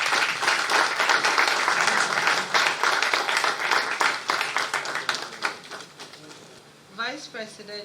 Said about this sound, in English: Please, with a huge round of applause, humbly welcome Her Ladyship Justice Gertrude Torkornoo.